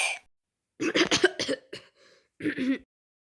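A person coughs in a rough burst of several hacks, then coughs again after a short pause; no talking.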